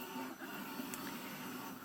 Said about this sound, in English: So I'm going to show you quick with a regular auto vacuum